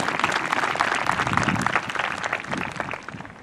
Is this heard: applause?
yes